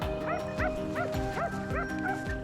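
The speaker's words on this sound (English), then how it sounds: "the hounds' barking erupted, loud and relentless" Hunting hounds bay and yelp without pause at a cornered wild boar. The barking is loud and overlapping, with several dogs calling close by.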